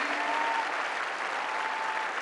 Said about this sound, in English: One more round of applause for our athletes.